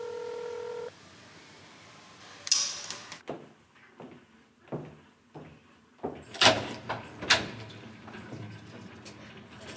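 A door in a home is unlocked and opened after phone keypad tones, a series of close clicks, rattles and thuds from the lock and handle, ending in a sharper bang as it swings.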